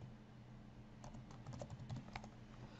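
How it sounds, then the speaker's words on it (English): Fingers type a code on a computer keyboard, a quick run of light, close clicks that begins after a second of quiet room hum. "I go ahead and I type in or paste in that flip code"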